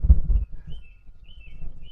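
Outdoor birdsong picked up on a Boya shotgun mic plugged into a 4K camera: thin, faint high chirps drifting over a low rumble, after a brief burst of louder handling or wind at the start.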